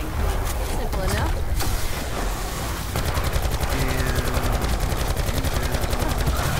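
Scorpion gun in COD Zombies fires long sustained automatic bursts, loud and close, with a rapid machine-gun rattle that runs almost without pause, while a voice talks over the shooting.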